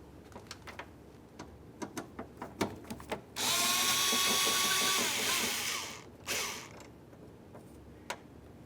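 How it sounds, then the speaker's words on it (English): A 10mm socket on an extension backs a mounting screw out of the door panel of a 1999-2003 Toyota Solara, with light clicks first and then a sustained whirring power-tool run, followed by a second short burst, near and clear. "Let's go ahead and use a 10mm with an extension and remove that screw."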